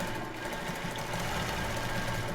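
Domestic sewing machine running a small zigzag stitch to finish the edge of an embroidered tulle bra, a close, steady rapid mechanical chatter that continues without pause and without speech.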